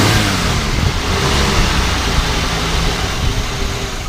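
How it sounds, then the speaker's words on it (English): A 1966 Ford Mustang hardtop's small engine being revved, loud and close, a steady dense roar with mild rises in pitch and no voices over it. "Go ahead and rev it up a little bit."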